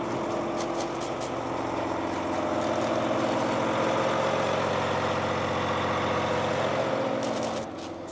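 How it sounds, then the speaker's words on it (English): A custom HDT truck's engine idles steadily at close range for the whole stretch, a continuous low, even rumble with no talking over it, easing off slightly near the end. "So you leave the truck running"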